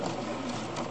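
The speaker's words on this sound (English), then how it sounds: "And then I'm going to do the reverse stitch." A home sewing machine runs a brief reverse stitch while setting in an invisible zipper, giving a steady, close mechanical whir with fast needle clatter and no voices.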